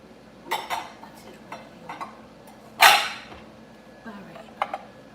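Glass bowls are pulled out in a home kitchen, sounding as a string of sharp clinks and knocks with one loud clatter near the middle and a few lighter taps after.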